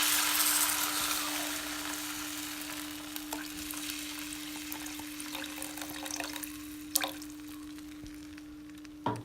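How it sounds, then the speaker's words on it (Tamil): A steady sizzling hiss fills a South Indian rasam pan as tamarind water goes in, with a faint low hum, soft stirring clicks and a sharp clatter near the end. "நெக்ஸ்ட்டு கரைச்சி வச்ச புளி கரைசலை ஆட் பண்ணிக்கலாம்"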